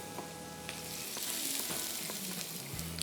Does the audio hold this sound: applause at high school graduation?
no